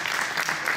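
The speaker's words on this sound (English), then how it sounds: "So let's give a round of applause." A brief burst of dense applause from a church fellowship congregation, steady and fairly close, with no voices over it.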